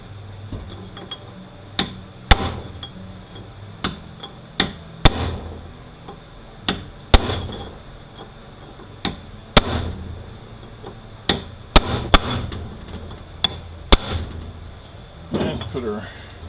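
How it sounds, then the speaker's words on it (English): A hammer strikes a chisel to loosen a nut on a U760E transmission being disassembled, producing sharp metallic clanks at irregular intervals, sometimes in quick pairs, with a person talking throughout. "I don't have the socket for it, so I just use a chisel"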